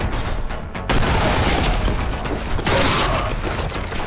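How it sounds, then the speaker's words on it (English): A grenade goes off in the Warhammer 40K Boltgun shooter with a loud, close blast that rumbles on, followed by a second heavy burst a couple of seconds later. "Another grenade."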